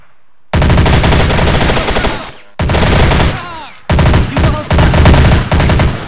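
Soldiers firing guns in a modern war strategy game, rapid loud machine-gun bursts in three long strings separated by short pauses, close and dense with rattling shots.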